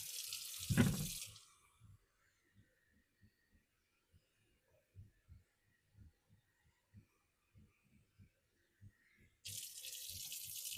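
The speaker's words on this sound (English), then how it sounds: "And I'm going to fill these up with water." A tap runs loudly into canning jars of potatoes for a second or two, then falls quiet with faint drips and clinks, and the water gushes again near the end.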